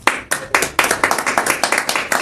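Congregation clapping for Jesus during a Catholic talk on ecumenism, a brisk run of strong, evenly spaced claps from several people, close and loud with no voices over it.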